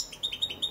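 A Balkan goldfinch (Carduelis c. balcanica) sings a quick run of bright, high chirps and twitters, close and clear against a quiet background.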